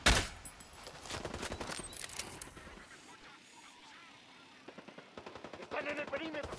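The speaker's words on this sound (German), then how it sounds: "Die schießen aufeinander." Rapid bursts of automatic gunfire crackle from an armed fight between factions in Ghost Recon Wildlands, loud volleys at first, easing to a quieter stretch, then renewed shooting toward the end.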